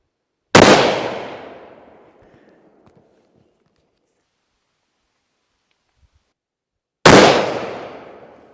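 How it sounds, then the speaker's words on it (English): Two loud, sharp rifle shots from a Ruger No. 1, about six seconds apart, each with a sudden crack and a long fading echo into near silence. "now let's see where shot number 2 goes."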